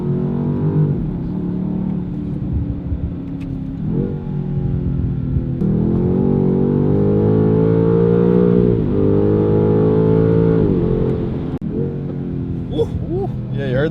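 BMW G90 M5 fitted with a Valvetronic Designs valved sport exhaust, a loud, close engine roar that revs and settles in waves, with a few sharp crackling pops near the end and no talking.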